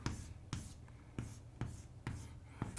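Pen writing out a truth table, short scratchy strokes in quick bursts with brief pauses between them, close and quiet, with no talk over it.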